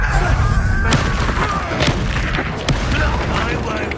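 A Confringo explosion spell in a video game, heard as a continuous rumbling roar with several sharp booming impacts under loud game sound.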